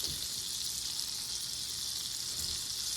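Seasoned potato pieces sizzling in a hot pan, a steady close crackle and hiss of frying that holds evenly throughout.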